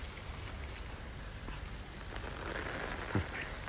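Steady rain during a thunderstorm pouring down outdoors, a dense continuous hiss at moderate distance with a brief low thump near the end, no voices.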